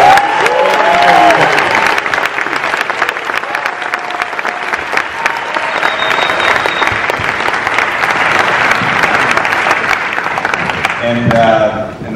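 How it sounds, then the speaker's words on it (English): A premiere audience at the Amsterdam world premiere bursts into loud, sustained applause with some cheering, continuous clapping filling the hall, with a voice speaking faintly at the start and end. "How about a round of applause?"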